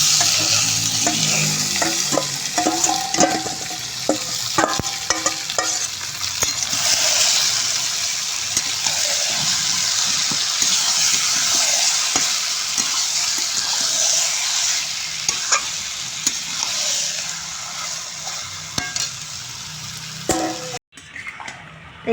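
Chicken is poured over fried onions in a hot pan and stirred, giving a loud, continuous sizzle with repeated scraping and clattering from the spoon throughout.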